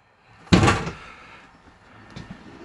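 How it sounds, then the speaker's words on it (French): A cutlery drawer in the white lacquered kitchen of a Dethleffs 6557 DBL motorhome slides and shuts with one sharp, close knock, then fades into quiet room tone with a faint second bump. "Tiroir à couvert."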